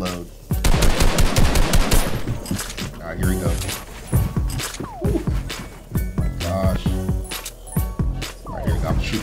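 Video game gunfire crackles in rapid automatic bursts, dense and loud, mixed with metallic clinks and game effects while someone talks over the action.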